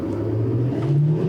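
A 2020 Chevrolet Silverado HD diesel truck in 4x4 auto accelerates from a stop, its low, steady engine drone climbing gradually in pitch, close and heard alone.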